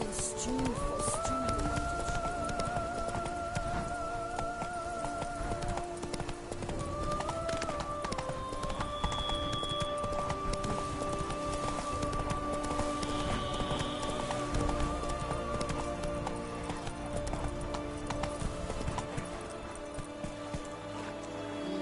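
Horse hooves clip-clop steadily in The Witcher 3: Blood and Wine as the horse moves along, under continuous game music and ambience, with a voice urging the horse on.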